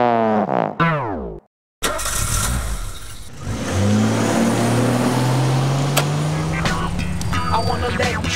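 A car engine revs in a 1996 PaRappa the Rapper PlayStation cutscene. Synth voice and music come first, a sudden cut follows, then the engine rises in pitch as it accelerates, loud under ongoing music.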